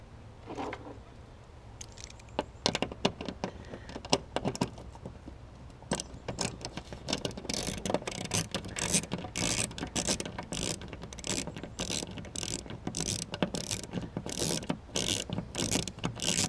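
A hand tool works a T20 Torx screw out under the washer cap of a Porsche Cayenne Turbo, giving a quick run of close ratcheting clicks that grow denser and more rapid toward the end.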